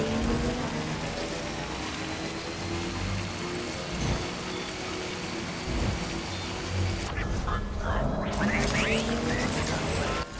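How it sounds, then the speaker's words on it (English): Steady heavy rain with rumbling thunder in the video game Death Stranding, a dense continuous downpour that holds loud throughout with a brief dip near the end. "This rain is like as frustrating as real life rain."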